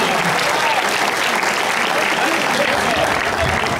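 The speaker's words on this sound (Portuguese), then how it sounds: "Mais palmas a ela." Crowd applause at a large political party gathering, dense and continuous at full strength for the whole stretch, with cheering voices blended into the clapping.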